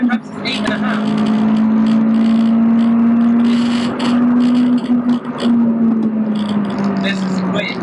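A Honda Civic EP3 Type R engine holds a steady, loud drone that climbs slowly in pitch as it pulls through the revs into VTEC, heard from inside the car with a voice talking over it.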